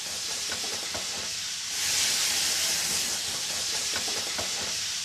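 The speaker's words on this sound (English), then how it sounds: "You got some ginger, and you explode it in the wok." Hot oil hisses and sizzles in a wok as Sichuan flower pepper and ginger hit it, a steady close, loud frying roar that swells briefly midway.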